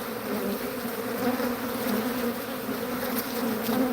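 Honey bees swarm around a beekeeper's veil at a poly hive, a close, continuous buzzing hum that fills the space without pause.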